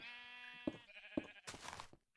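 Sheep bleating in the Minecraft video game, a short wavering bleat followed by a couple of small thuds and a brief rustling burst, fairly clear and close with no talk.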